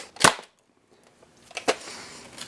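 Buzz Bee Tactical Storm foam dart blaster firing a long-distance dart, a sharp single pop followed by a second snap and mechanical clatter, close up.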